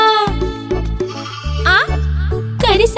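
A young goat kid bleats in short, wavering cries over a children's song about a little goat, with musical backing notes underneath.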